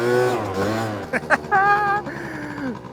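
A 1993 Honda Dio SR Special Edition scooter engine buzzes and revs nearby, pitch wavering up and down, with a voice briefly talking over it midway.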